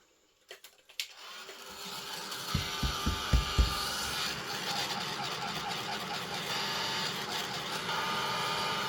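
Heat tool running steadily for embossing on handmade cards, starting after a few clicks and knocks, then a continuous loud blowing whir that holds to the end.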